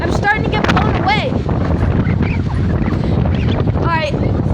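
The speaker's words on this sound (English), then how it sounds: "It's very windy." Extreme windstorm gusts roar and buffet the microphone nonstop, a loud dense rumble with a few high squeaks or cries cutting through.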